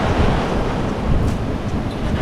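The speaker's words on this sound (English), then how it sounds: "the wind has died down from gusting to above 50 down to gusting to mid 30s" Strong wind at sea roaring steadily across the microphone while sailing, gusting into the mid-30s of knots, with broadband rushing wind noise and surf washing around the boat, continuous and loud with no talking.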